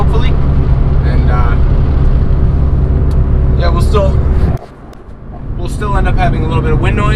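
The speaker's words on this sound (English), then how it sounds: "I know the exhaust is super loud in this thing." Loud, droning exhaust of a turbocharged Honda Accord driving on the street, a steady low rumble from inside the cabin that dips briefly and comes back, with someone talking over it.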